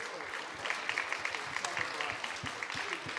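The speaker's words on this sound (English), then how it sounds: "Please give a round of applause to our wonderful panel." Applause from a conference audience for a nurses' panel, fairly quiet and patchy, with scattered claps and voices mixed in throughout.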